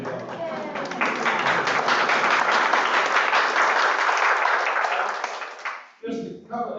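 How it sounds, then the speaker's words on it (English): People at a neighborhood council meeting give a loud, close round of applause that holds steady for several seconds, then stops abruptly as a voice begins speaking. "A big round of applause."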